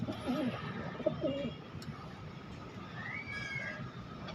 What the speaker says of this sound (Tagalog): may kalapati sa bubong ngayon